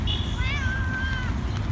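A hungry, sick stray cat meows once in a long, drawn-out, rising-then-falling cry, close and clear over a low rumbling background.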